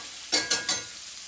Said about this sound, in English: There's the bacon in the skillet.